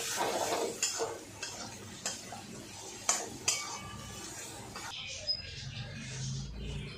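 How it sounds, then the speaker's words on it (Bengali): Kharkol leaves with salt and turmeric being stirred and fried in a pan: soft scraping and clinks of the spatula with a quiet sizzle, close by and without talk. "এবার ভালো করে নাড়াচাড়া করে"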